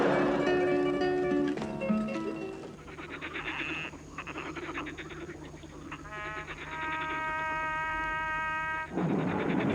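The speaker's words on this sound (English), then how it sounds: "The frogs are restless tonight" Night-time ambience at an Andes camp, with a steady chorus of frogs croaking and buzzing insects filling the background, plus scattered tonal calls rising and falling in layers without any talk.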